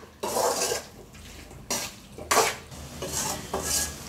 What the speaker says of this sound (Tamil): ஒரு நிமிஷம் இது எண்ணெயிலே நல்லா வதங்கட்டும்